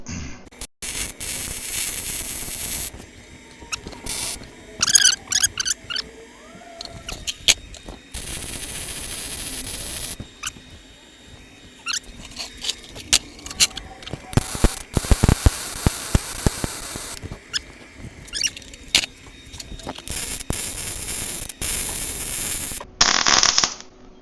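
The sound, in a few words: welding metal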